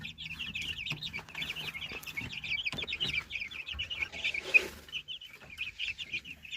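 Month-old chicks keep up a steady chorus of shrill peeping, joined by low clucks from chickens and scattered taps and rustles, moderately faint and continuous, with no people speaking.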